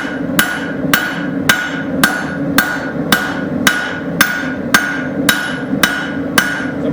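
A hammer peens a railroad spike on an anvil during forging, with twelve sharp, loud ringing blows struck at an even, steady rhythm close by and no voices.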